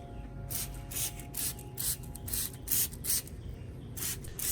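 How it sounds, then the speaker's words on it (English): A spray bottle mists rice water over an Anthurium plant's leaves, stems and roots in a quick series of short, hissing bursts, close and fairly quiet, with uneven gaps between the pumps. "I mist the entire Anthurium, its leaves, stems,"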